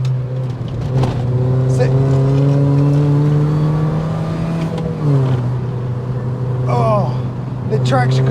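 Mini Cooper R53 engine with Brembo brakes revs up loudly and steadily after a downshift, pitch climbing then dropping at a gear change before rising again, heard from inside the car.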